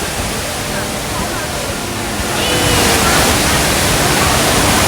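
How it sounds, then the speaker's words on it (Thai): Steady, dense roar of the HSBC Rain Vortex indoor waterfall at Jewel Changi Airport, Singapore, filling the space, growing noticeably louder and fuller about halfway through. "น้ำตก HSBC Rain Vortex ที่จีเวลซางฮีแอร์พอร์ตเป็นน้ำตกในร่มที่สูงที่สุดในโลก"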